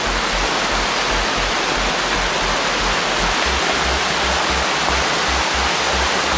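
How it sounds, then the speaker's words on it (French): A mountain waterfall cascades through the Gorges de Saint-Pierre, a loud, continuous rushing roar of falling water, close and unbroken throughout. "Au niveau de la passerelle, il s'agit de cascade."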